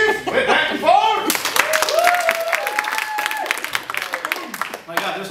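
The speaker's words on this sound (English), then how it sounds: "That's one round of applause." A live comedy show audience breaks into a loud round of applause mixed with chuckles, rising after a brief spoken line and filling most of the clip close-up before fading.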